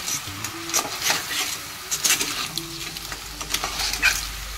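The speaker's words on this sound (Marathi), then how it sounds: "आता मस्त एकदा परतवून घेऊया." Clam curry with drumsticks, potato and tomato being sautéed and stirred in a pan, giving a steady close sizzle with repeated scraping stirs throughout and no talking.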